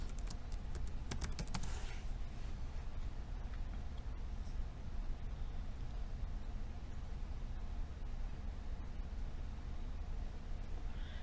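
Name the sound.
typing administrator password on computer keyboard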